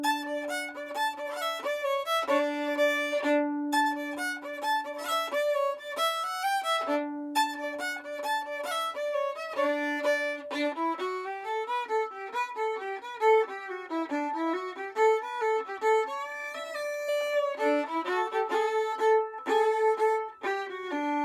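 The last section of Ed Haley's fiddle tune Bonaparte's Retreat is played alone on a bowed instrument. Busy melodic lines run over a sustained low drone, fairly quiet and steady throughout.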